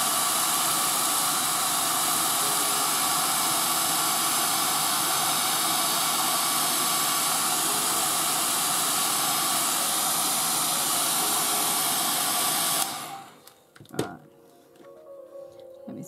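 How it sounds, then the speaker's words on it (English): A hairdryer blows steadily and loudly on metal clay, a constant close whooshing hiss that runs unbroken for about thirteen seconds before switching off, followed by faint handling noise. "just hit it with a hairdryer."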